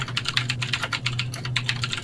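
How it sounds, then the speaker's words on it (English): Rapid, steady clacking of keys on a loud mechanical computer keyboard, close and prominent with an even typing rhythm and no voices over it. "It's a loud keyboard."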